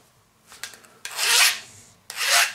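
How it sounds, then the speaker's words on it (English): Hand file rasping across the metal of a chainsaw bar, with a few short scrapes followed by two longer strokes, close and clear with no talk. "I can file it with the file, so it's not hardened."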